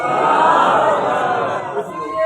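A large crowd at a religious gathering roars 'Allahu Akbar' back in unison after a takbir call, a loud, sustained swell of massed voices that fades slightly toward the end.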